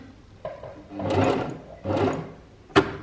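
Sewing machine running a short back stitch on fabric: two sustained bursts of whirring stitching, close and fairly loud, bracketed by sharp mechanical clicks, with no talking.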